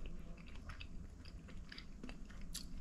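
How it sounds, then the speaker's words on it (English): A crab cake with a crunchy crust is chewed up close, giving soft repeated crunches and bites over a low background, with no talking. "You have that nice crunch on the top, and the inside is nice and moist and soft"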